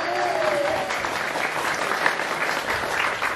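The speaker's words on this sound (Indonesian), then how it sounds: "tepuk tangan" Audience applause at a police visit to an Islamic boarding school, a steady crowd of clapping hands filling the space evenly, with a brief voice at the start.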